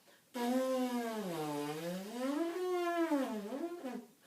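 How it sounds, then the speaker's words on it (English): Lips buzzing as a trumpet embouchure exercise, a single sustained reedy buzz that slides down in pitch, then rises and wavers before stopping, heard close and alone. "So the lip buzzing is the first point of contact for the sound for the trumpet."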